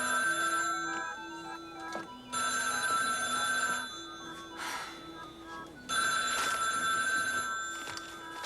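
An old-style telephone bell rings in a 1989 soap opera scene: two long bursts of loud, near, jangling rings, a pause, then a third burst, with no talk over it.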